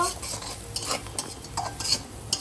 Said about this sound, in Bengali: এখন পেঁয়াজটা একটু লাল করে ভেজে নেওয়া পর্যন্ত নাড়তে থাকবো